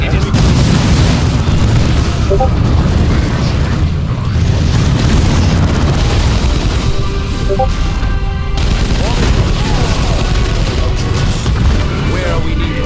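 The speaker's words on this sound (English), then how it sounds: "Orcs are firing" Orks firing weapons in the Dawn of War II: Chaos Rising video game, a dense, loud, continuous roar of booming explosions and rattling gunfire that carries on without a break.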